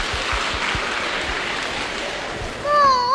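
Broadband audience applause fills a 1985 Shanghai Yue opera television contest awards gala, steady and continuous, with a singer's voice rising at the end as the performance begins.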